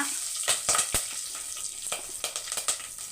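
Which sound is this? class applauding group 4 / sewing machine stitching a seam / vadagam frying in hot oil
vadagam frying in hot oil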